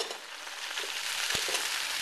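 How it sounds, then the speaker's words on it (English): Beef strips and vegetables frying together in a pan for chow mein, a steady hissing sizzle with a couple of soft stirring knocks, close and alone. "Mix all the vegetables with the beef strips together. Fry them for about 1 minute."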